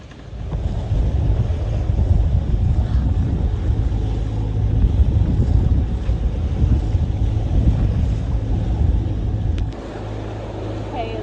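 A sailboat under full sail with engines off rushes through rough open seas between St. Thomas and Grenada, a loud continuous roar of wind and water buffeting the microphone, with a faint voice underneath.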